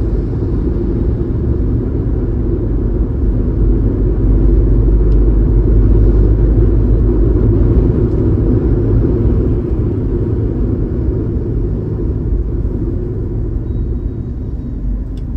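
Car driving on an expressway near a toll: a continuous, loud low rumble of engine and road noise heard from inside the vehicle, steady throughout with no talking.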